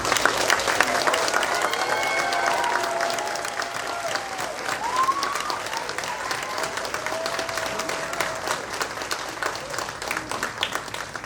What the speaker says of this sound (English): give a warm round of applause to our new inductees